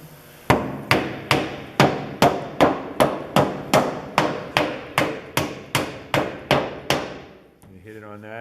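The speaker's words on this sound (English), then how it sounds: "I'm going to take the hammer." A hammer strikes the end of a wooden mallet fifteen times in a steady, even rhythm, each hit a sharp, loud, close knock with a short ringing decay, ending in a brief quiet scrape.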